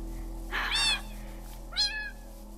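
Cats meowing in the Minecraft video game, two separate rising meows heard over a steady low background hum.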